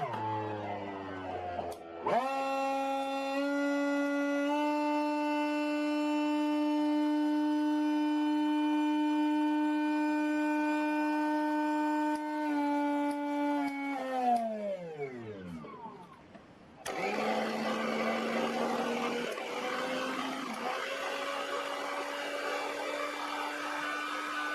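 An Inalsa 780 W mixer grinder whines loudly and steadily, then spins down. Moments later an Atomberg MG1 mixer grinder starts up with a rougher, noisier hum that runs to the end.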